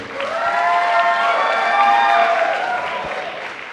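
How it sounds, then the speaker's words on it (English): A crowd applauds steadily for several seconds at a startup demo day, with some cheering and whistles mixed into the clapping, swelling then tapering slightly. "Please give a big round of applause for both our teams and our judges."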